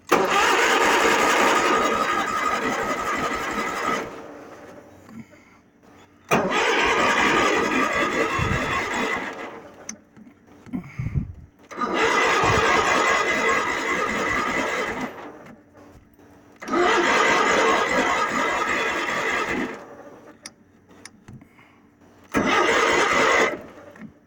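An Ariens engine is cranked repeatedly: four long, loud bursts of cranking and engine roar separated by short pauses with brief clunks, close by and with no talk.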